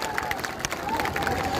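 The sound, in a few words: audience applause for Prem ji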